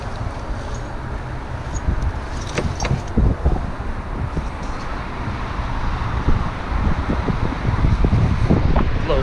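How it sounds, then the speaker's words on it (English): Steady outdoor wind buffets and rumbles across the microphone in gusts, with a chilly breeze rising and falling continuously and occasional small knocks and clinks, no speech. "It's windy."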